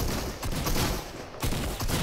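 Rapid bursts of gunfire from a Fortnite arena match, loud and dense with short gaps between volleys, filling the whole stretch with no talk over it.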